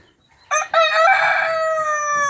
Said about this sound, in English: That's Dave, the cockerel.